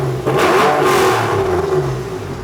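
A Porsche 911 engine with a straight-pipe exhaust revs up hard in one loud, close burst, then settles into a rough, throaty drone.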